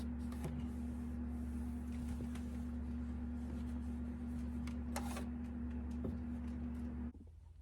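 A sewing machine runs a steady, continuous 5/8 inch seam around the edge of fabric for a reversible jar bonnet or bowl cover. The motor hum holds constant and close, with no talking, then stops abruptly near the end.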